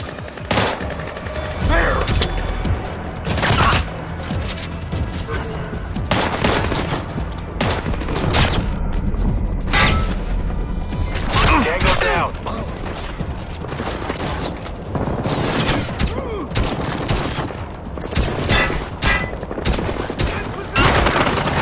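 Gunfire in the stealth-action game Splinter Cell: Blacklist, with armor-piercing rounds in a loud firefight: repeated sharp shots and bursts, some heavy booms, dense and close, with game voices talking over parts of it.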